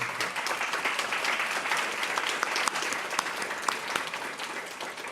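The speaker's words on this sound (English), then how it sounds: "A round of applause for them." An audience at a public brain-science talk gives the panelists a thick, steady round of applause. Dense, even clapping holds at a constant level throughout, with a few sharper individual claps standing out.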